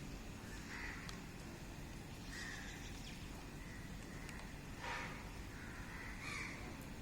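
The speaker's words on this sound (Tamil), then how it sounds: "ஒரு காக்கா வந்து நிற்கிது" Several separate caws from a crow ring out outdoors at a moderate distance, spaced irregularly over a constant background hiss, with no talking.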